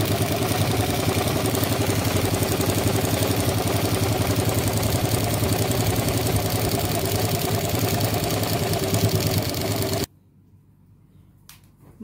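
A sewing machine stitches a salwar in a steady, fast mechanical whir with a rhythmic clatter, running continuously and close before stopping abruptly, leaving near silence.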